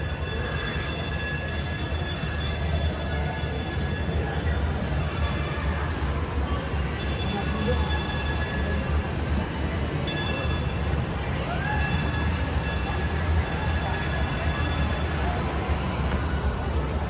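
A small passenger ride train running through an SM Mall, giving a steady rolling rumble with light clinks and a faint whine, heard close from on board with continuous background noise.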